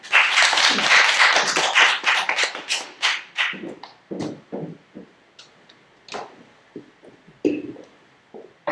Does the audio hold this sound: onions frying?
no